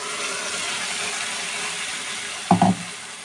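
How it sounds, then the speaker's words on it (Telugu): Egg curry masala with onion and green chilies fries in a pan, giving a continuous even hiss of sizzling, broken near the end by two quick knocks of a utensil against the pot. "సన్న సెగలో వేయించుకుందామండి"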